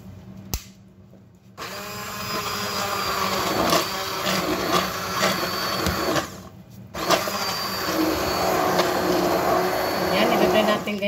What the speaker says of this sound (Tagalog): I-blend natin yung ating vegetables guys.